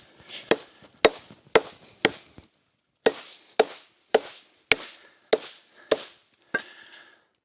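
A TOPS Lilith knife chops into a thick, old, hard tree stump, giving about a dozen sharp woody strikes in a steady rhythm with a short pause midway, loud and close against otherwise quiet outdoor surroundings.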